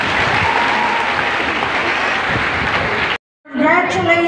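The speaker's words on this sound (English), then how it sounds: "A big round of applause to our Deputy Secretary." An audience at a school closing ceremony claps in a dense, steady round of applause, briefly cut off, then followed by a voice over a loudspeaker.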